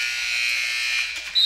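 A basketball game buzzer at a high school boys' game sounds at the end of the quarter: a loud, steady electric drone held for over a second, then cut off by a brief burst of crowd noise.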